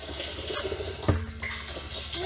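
A thin trickle of water from an air-conditioner condensate pump hose runs into a big barrel, a faint continuous flow with a brief louder splash partway through.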